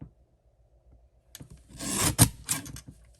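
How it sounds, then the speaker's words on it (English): Paper being trimmed for a handmade stamped card, a brief close scraping and rubbing burst after a quiet start, rising to a sharp louder stroke then tapering off. "I am going to trim this down just a bit because that is going to bother me."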